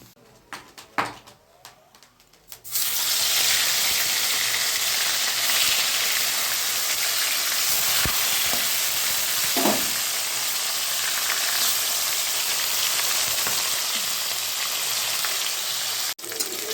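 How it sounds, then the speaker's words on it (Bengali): Fish frying in a pan in a home kitchen, a steady loud sizzle that starts suddenly after a few quiet seconds and continues without a break, with a few faint clinks. "তো চলো মাছটা ভাজা করি।"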